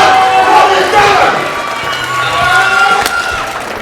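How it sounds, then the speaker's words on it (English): A crowd at a credit and debt summit in Atlanta claps and cheers for a speaker. The roar is loud and sustained, with a few sharp peaks and bangs across several seconds. "I need you guys to clap it up and clap it up"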